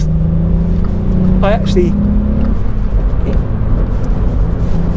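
Volkswagen Up GTI driving along a narrow country road, its engine a steady loud hum with road roar from inside the cabin, while someone speaks over it.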